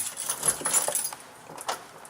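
Keys jangling in a car, a close run of light metallic clinks and rattles that come in uneven bursts and fade between shakes, with no voices.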